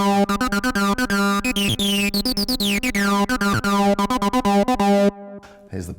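An acid bassline plays on a Donner B1 synth bass, a fast sequence of squelchy, resonant notes with sweeping filter, loud and up front, then stops abruptly near the end.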